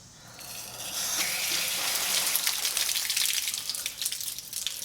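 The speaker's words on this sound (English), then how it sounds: "We have a very active leak as soon as I turn on this valve." Water hissing and spraying from a leaking water meter in an old walkout basement once the valve is opened, a steady broadband rush that swells within the first second and stays loud and close.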